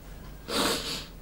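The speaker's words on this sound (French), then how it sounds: "les reniflements c'est pas fun" A person sniffles once, close to the mic: a short burst of airy breath noise, with a softer second sniff just after it and quiet room tone before.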